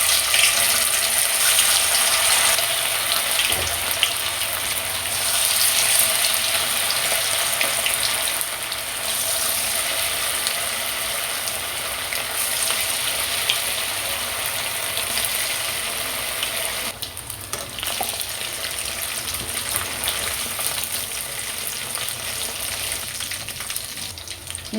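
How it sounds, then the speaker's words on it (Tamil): Chicken 65 pieces frying in hot oil for biryani make a dense, steady sizzling hiss that runs loud and continuous throughout, close to the pan, with no talking. "இப்போ சிக்கன் வறுத்துக்கலாங்க."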